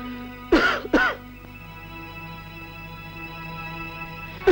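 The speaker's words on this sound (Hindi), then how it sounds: "अबे खांसना बंद कर" A man in a Hindi film scene coughs and clears his throat, two rough bursts close together early on, followed by quiet room tone and the start of another cough at the end.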